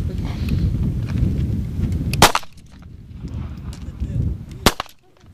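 Two sharp, loud rifle shots ring out at a military firing range, spaced a couple of seconds apart, over a murmur of background noise.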